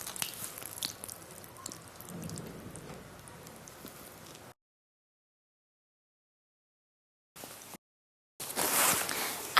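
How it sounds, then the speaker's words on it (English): Lukewarm water splashes and trickles onto an incontinence pad in a steady wet patter, stops, then returns in a short burst and a louder final pour. "Just pour it onto the product."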